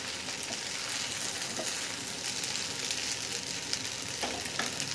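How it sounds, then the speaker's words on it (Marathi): Sabudana khichdi stir-fried in a pan gives a dense, steady sizzle with occasional spoon scrapes, close and even throughout, without any talk. "चांगलं एकदा परतून घेऊया।"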